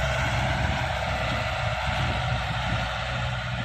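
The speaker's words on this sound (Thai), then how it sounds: "เอารถไถ" A farm tractor pushes through rain-soaked mud at an earthen pond, its engine making a loud, continuous drone with no break.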